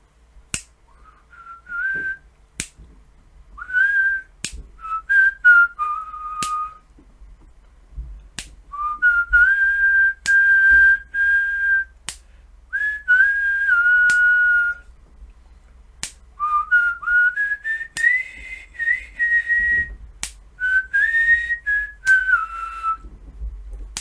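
Someone whistles a melodic tune alone, phrases rising and falling with short pauses, punctuated by sharp snapping clicks at irregular intervals.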